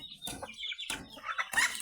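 Native chickens cluck in short, close bursts while being fed cassava, several birds chattering in quick succession with brief gaps between calls.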